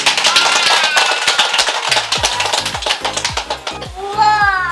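An audience applauds an award winner at an Indonesian community event, with dense, sharp claps running steadily throughout and a voice speaking near the end.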